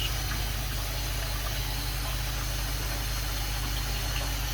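Water rushes steadily during a rinse cycle of a pond bog filter, with a constant pump-like hum beneath, even and unbroken throughout.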